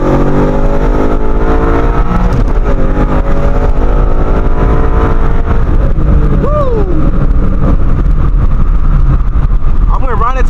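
A car with a stock clutch pulls hard from third gear into fourth at high revs, its engine note loud, droning and continuous, with a voice talking over the roar.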